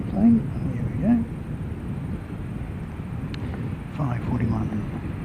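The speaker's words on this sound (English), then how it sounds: "Seeing an airplane." An airplane at an airport rumbles as a broad, fairly loud roar mixed with wind buffeting the microphone, while someone speaks briefly at the start.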